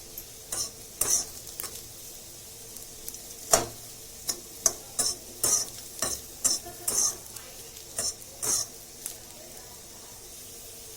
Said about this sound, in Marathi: आता आपण कांदा भाजून घेऊ थोडा कांदा भाजता जसं या तीन चार हिरव्या मिरच्या पण भाजून घेऊ